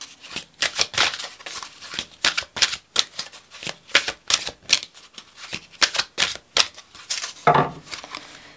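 Oracle cards are shuffled by hand in quick, crisp riffling bursts, a close, papery rhythm of slaps and flutters repeating throughout with no talking.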